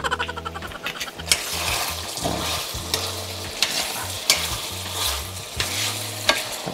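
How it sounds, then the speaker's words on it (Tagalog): Beef tapa frying in avocado oil in a pan, stirred with a utensil: continuous loud sizzle with rhythmic scraping strokes and sharp clicks of the spatula against the pan, close and alone. "Tapos halu-haluin nyo lang."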